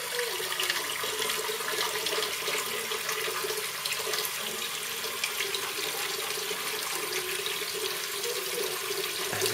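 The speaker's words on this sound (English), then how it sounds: "Yeah, you better rinse it off." A child rinses red sauce off under a running kitchen tap, a steady close rush of water splashing into the sink that continues without pause.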